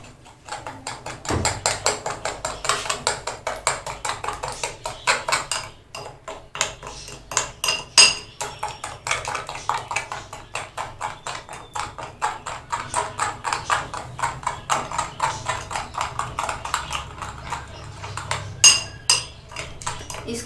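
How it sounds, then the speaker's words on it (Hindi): Icing sugar mixture beaten in a bowl for a mango cake, a steady run of rapid clinking, tapping strokes of a utensil against the bowl, close and continuous with brief pauses. "इसको हम जितना अच्छा बीट करेंगे उतना ही अच्छा हमारा केक बनेगा।"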